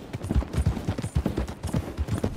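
Horse hooves clip-clop in Red Dead Redemption 2, a brisk, steady rhythm of dull thuds that continues throughout, with no talking.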